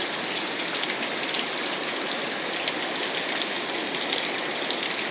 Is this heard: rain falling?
yes